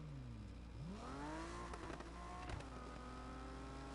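A Porsche engine in a video game revs steadily, its pitch climbing and sweeping in smooth rising tones with a few sharp clicks, loud and continuous throughout.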